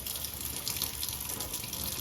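Water runs steadily from a tap while vinegar is rinsed off golf club shafts, a continuous close hiss with no breaks and nobody speaking.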